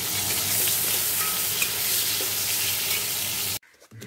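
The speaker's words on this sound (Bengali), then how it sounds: "তারপর এখানে একটা পটল ভাজছি" Slices of pointed gourd (potol) frying in oil in a home kitchen, giving a steady close sizzle with occasional stirring scrapes, running continuously before cutting off abruptly near the end.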